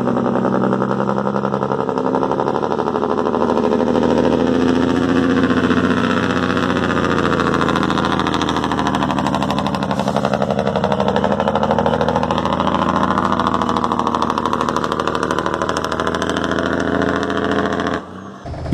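Engine brake on an International truck in the Drivers Jobs Online video game, a loud, steady, rumbling engine drone that continues without pause, swelling slightly midway before cutting off at the end.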